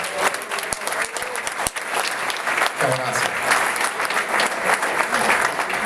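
Audience applause at a National Commerce Day ceremony in recognition of an honoree, a dense sustained clapping from a crowd that fills the hall throughout, with a voice speaking over it briefly.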